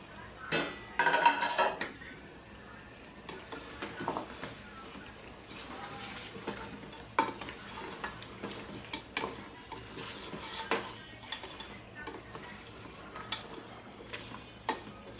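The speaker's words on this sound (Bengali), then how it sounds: "এখন এর মধ্যে আমি আলুগুলো দিয়ে দিব" Potatoes go into a pot of goat nehari stewing in spiced masala, followed by steady stirring with spoon scrapes and clinks against the pot over a low background simmer, with a louder clatter near the start.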